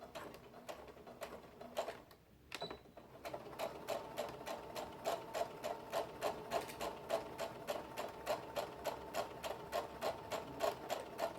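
A sewing machine back stitching a bodice seam for Vogue 8825 at a 5/8-inch allowance: after a short pause, the needle runs in fast, even, close mechanical ticks that settle into a steady rhythmic stitching.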